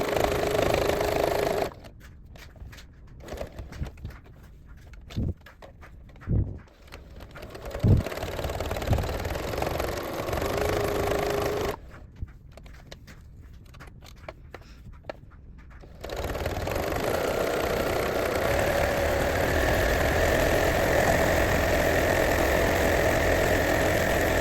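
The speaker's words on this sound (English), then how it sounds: "now we're gonna sew the little pillows" A home sewing machine stitches small heart-shaped stocking pillows, running in loud mechanical bursts that stop and restart, with quieter pauses between runs.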